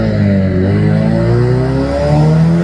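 Turbocharged petrol car engine pulling hard through an 8HP automatic transmission that is slipping, its revs climbing steadily in rising harmonic tones; loud, continuous and close, with no talking.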